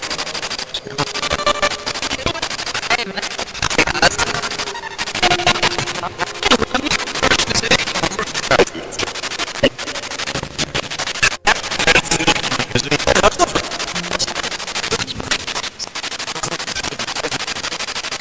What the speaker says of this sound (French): le son que vous entendez, dans le fond, c'est le son, dans le fond, d'une Spirit Box